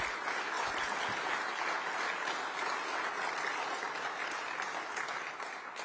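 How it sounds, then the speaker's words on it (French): Audience at a French foreign ministry press conference honouring journalists breaks into dense, sustained applause. The clapping holds at an even level throughout and fades slightly at the end. "On peut les applaudir"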